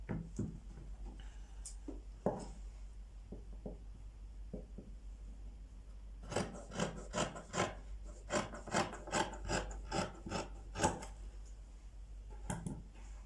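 Marking wheel rolled along trouser fabric to trace a line, giving a series of soft, quick rasping scrapes, sparse at first and then a rapid rhythmic run, close and quiet.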